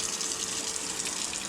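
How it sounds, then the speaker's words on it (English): Weak stream of water running from a kitchen tap with low water pressure, a steady faint hissing trickle with no voices. "I was just trying to run some water here, and look at this. Look at the stream. It's not full."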